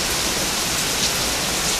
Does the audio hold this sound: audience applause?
no